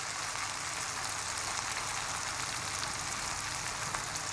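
Vegetables for sambar roast in a hot pan with a steady, even sizzle that hisses without a break from start to finish and does not change in loudness.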